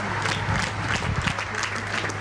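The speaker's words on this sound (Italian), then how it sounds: "E ancora l'applauso continua" Sustained applause at a ceremony, with a crowd clapping steadily in a dense, continuous patter that holds throughout.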